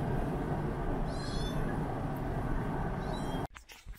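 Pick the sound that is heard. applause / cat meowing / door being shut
cat meowing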